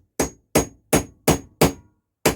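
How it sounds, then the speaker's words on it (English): A claw hammer strikes metal while working on a Bonser auto truck's fuel tank and tap: six sharp, ringing blows, evenly spaced and close, with a short pause before the last. "here comes the claw hammer"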